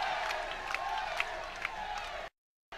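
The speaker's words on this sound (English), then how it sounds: "The crowd is going wild for Eric Kelly." A Manila fight crowd at URCC 22 roars for Eric Kelly during his bout with Brad Terrey, a dense sustained cheer with scattered sharp shouts, moderately distant, before the sound cuts out abruptly near the end.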